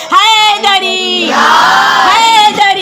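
A crowd of women chanting a religious slogan in response at a gathering, loud voices rising together in a sustained shouted call, with a single voice leading before and after.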